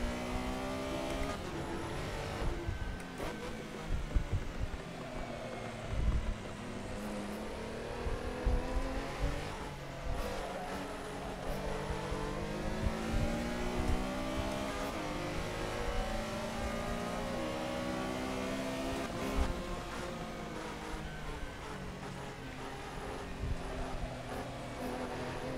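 A Porsche Carrera Cup race car engine in a racing sim game roars continuously, rising and falling in pitch through repeated accelerations and gear shifts, with occasional tire noise, steady and fairly loud throughout.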